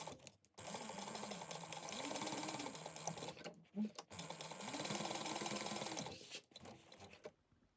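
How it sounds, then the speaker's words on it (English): A sewing machine stitches a 3/8 inch side seam on a convertible sling backpack, running in a steady whirring hum that pauses briefly twice. It plays at low level with no talking over it. "we're going to sew this at a 3/8 inch"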